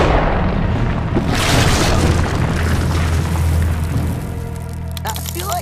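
A flare gun fired in a cartoon scene, heard as a loud booming burst that swells and holds for several seconds before dying away, followed by faint higher tones near the end.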